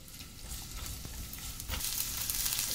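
Onion and vegetables for veg American chopsuey sizzle steadily in a hot pan while being stirred, a continuous close frying hiss that grows slightly louder toward the end, with no talking.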